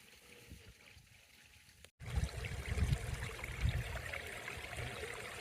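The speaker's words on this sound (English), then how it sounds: "I truly love their waterfalls." A garden koi pond waterfall trickles and splashes, faint at first, then after a brief dropout a louder, closer rush of falling water with gurgling that holds steady to the end.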